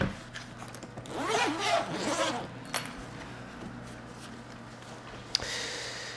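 The zipper on a Think Tank Airport Airstream camera bag is pulled open in a couple of rasping strokes, close and fairly soft, followed by faint handling rustle and another short zip.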